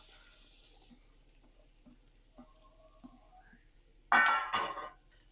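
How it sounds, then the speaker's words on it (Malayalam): Onions dropped into hot coconut oil in a home kitchen, bursting into a loud sizzling hiss about four seconds in that stays fairly strong for roughly a second before dying down, after quieter clinks and rustles. "ഇപ്പോൾ വെളിച്ചെണ്ണ ചൂടായി വന്നിട്ടുണ്ട് കേട്ടോ ഇനി അതിലേക്ക് ഉള്ളി ഇട്ട് കൊടുക്കാം കേട്ടോ"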